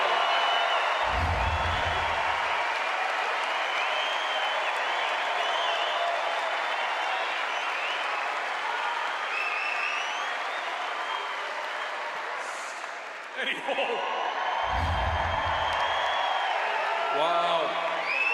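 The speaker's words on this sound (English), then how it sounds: "listen to that crowd. They still love you." A large crowd at a strongman competition roars, cheers and applauds loudly and steadily, with whoops rising above the din, while someone speaks briefly over it.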